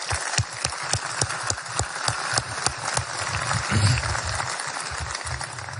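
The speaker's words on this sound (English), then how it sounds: "let's give them a quick round of applause" Applause from a crowd at a Donald Trump campaign rally in Iowa in 2015, a steady wash of clapping with distinct individual claps standing out, mid-distance and moderately loud.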